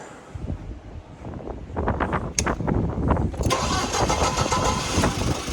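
A Gleaner R72 combine engine cranks over and catches, then settles into a steady, loud rumble that continues to the end.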